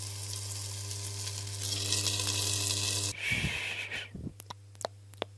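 A pork steak with its skin notched is seared in butter in a pan over full heat. A loud, dense sizzle fills the first seconds, then drops to a softer fry with a low hum and a few sharp clicks.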